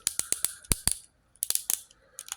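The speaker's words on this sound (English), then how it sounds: "Legs can go forward and back, and they are ratchet on a nice ratchet." A Transformers Classics Constructicon Scavenger toy's leg joint clicks through its ratchet in quick sharp bursts of snapping clicks, with a short pause before a second run, close up.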